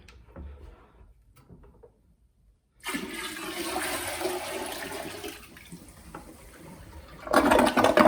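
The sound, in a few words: dirty vacuum filter water dumped into toilet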